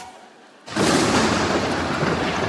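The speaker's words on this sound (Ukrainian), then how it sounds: "О, все, нарешті гроза" After a quiet start, a thunderstorm sound effect breaks in suddenly as a loud, broad rumbling roar that holds steady to the end, used as a stage effect in a comedy sketch.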